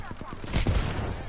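Gunfire in a battle-royale-style video game, a short burst of shots at mid distance with a louder impact near the middle, mixed with game noise and a faint voice.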